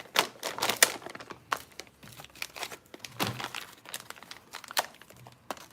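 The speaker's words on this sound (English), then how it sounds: "I'll rip the tags off." Paper or cardboard tags being ripped and crinkled off a toy RC tank track set, a close series of sharp tearing and crumpling bursts with short pauses between them.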